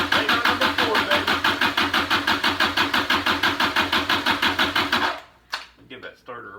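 Kubota diesel engine from a junkyard, fuel reaching three of four injectors, cranks on its starter in a steady rapid rhythmic chug for about five seconds, then stops, leaving faint brief sounds after.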